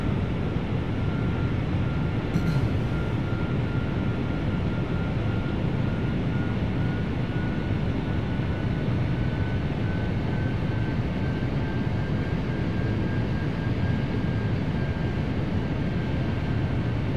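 A QualityWings Boeing 757-200 airliner on landing approach in Flight Simulator, its engines giving a continuous loud roar with a faint steady whine across the whole stretch.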